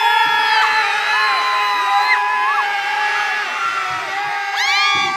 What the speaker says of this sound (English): if I wanted to do a sound effect of crowds cheering